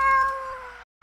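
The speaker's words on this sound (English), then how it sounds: "The fucking cat." A cat meows loudly and close in the Sally Face video game, one drawn-out call that fades, a brief silence, then the start of another.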